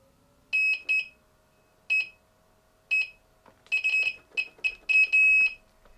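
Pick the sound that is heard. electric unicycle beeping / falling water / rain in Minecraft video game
electric unicycle beeping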